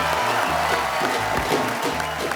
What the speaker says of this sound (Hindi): एक रिश्ता साझेदारी का की पूरी टीम के लिए जोरदार तालियां।